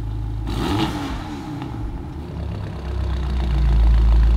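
BMW M5 with a SuperSprint exhaust and downpipes, idling after warm-up: a deep, steady low rumble recorded close by, with a brief early swell and a heavier boom building toward the end.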